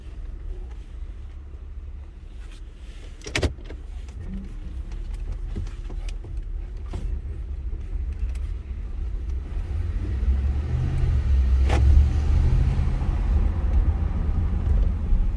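Low, steady engine rumble and road noise from inside a moving 2009 Ford F-150 pickup with 250,000 miles, gradually growing louder, with a few sharp knocks and rattles.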